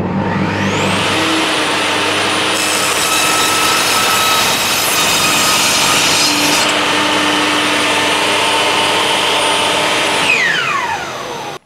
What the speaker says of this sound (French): je vais réaliser cette découpe sur cette vieille chute, simplement pour voir comment ça fonctionne avec les grandes planches